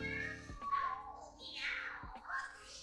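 Cats meow several times in a row, wavering, drawn-out cries that sound eerie and rise and fall in pitch, with a brief sharp knock between calls and no talking.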